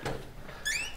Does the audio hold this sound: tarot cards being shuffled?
no